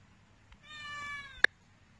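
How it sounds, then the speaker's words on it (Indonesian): A domestic cat gives a single clear, drawn-out meow of about a second, wanting durian, followed by a sharp click, quiet and close against a faint low hum. "kucing awak yang minat durian tu pun dah mula dah"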